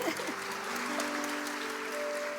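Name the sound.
audience applause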